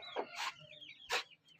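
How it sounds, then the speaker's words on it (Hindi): A large rooster clucks in short bursts, a few close, fairly loud calls with brief pauses between them, heard alone with no talking. "बड़ा मुर्गा है"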